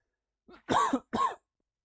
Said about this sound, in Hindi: यहाँ पे शायद कुछ बन रहा है बगल वाले रूम में, तो उसकी वजह से खांसी आ रही